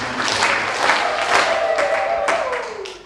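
A church congregation at a joint Christian unity service claps three times in unison, a burst of crowd applause heard in a reverberant hall, with a sustained tone and murmuring underneath.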